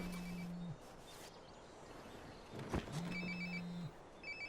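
A Nokia flip phone in Life is Strange: Before the Storm rings in two short electronic bursts with a sharp thud between them, quiet beneath faint background ambience.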